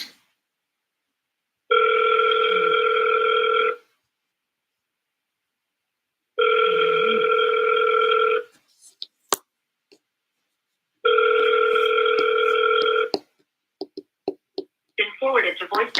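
An outgoing phone call rings back three times, each ring a steady electronic tone lasting about two seconds with long silent gaps between, followed by faint clicks and brief bits of sound.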